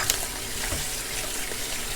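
Water running steadily from a kitchen tap while metal skewers soak before threading with meat, a continuous hissing wash close by with no talk over it.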